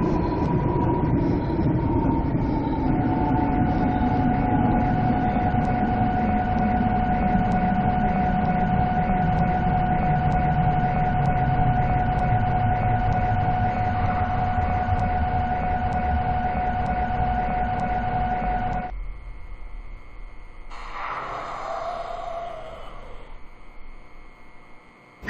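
A Seoul Metro Line 7 subway train bound for Bupyeong-gu Office runs between stations, its motor whine falling in pitch under steady track rumble before the noise drops away near the end.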